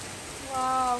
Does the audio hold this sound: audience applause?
no